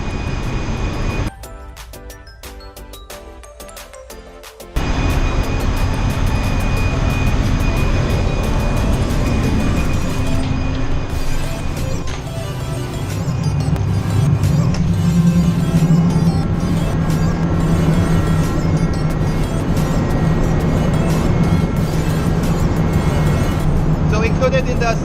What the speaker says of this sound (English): Before going into the second deck of the engine room